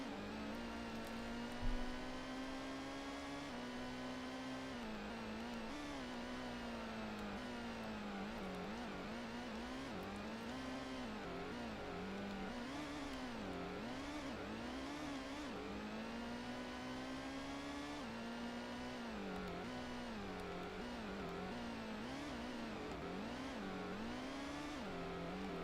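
A Toyota Supra racing in the Gran Turismo video game, its engine revving hard and continuously, the pitch rising and falling through gear changes for the whole stretch, loud and steady with no talk.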